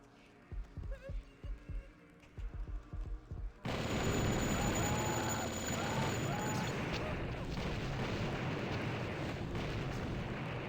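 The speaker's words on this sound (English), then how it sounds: "Here, let me add to the explosions." Continuous roaring explosions and blasts in a Doom mod game fill the mix after a burst of rapid gunfire-like thuds, dense and loud, sustained over several seconds.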